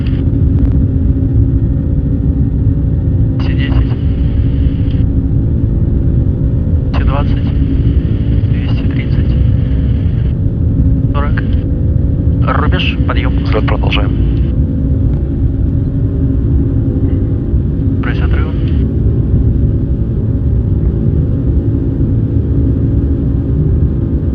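Aircraft engines roar steadily and loudly through a takeoff roll at maximum weight, a constant heavy rumble that never drops, with short bursts of cockpit voices breaking in over it now and then.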